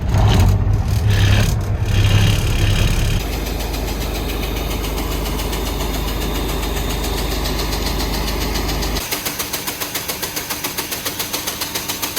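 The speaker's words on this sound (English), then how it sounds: "We use our tandem truck to haul the fertilizer." A tandem truck used for hauling fertilizer runs with a steady, close diesel engine drone, loud and rumbling with knocking vibration throughout, alone without talk.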